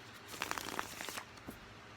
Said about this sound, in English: I'm feeling one more shuffle